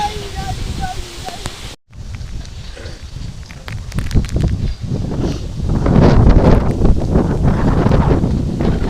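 Strong wind gusts buffet the microphone outdoors as rain threatens, a loud rushing roar that swells toward the end, with people talking through it.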